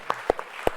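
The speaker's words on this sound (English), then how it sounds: "Let's give that a bit of a clap" A few scattered claps ring out from a festival audience after a documentary clip, about four separate sharp hand claps, sparse and uneven, close and fairly distinct rather than a full round of applause.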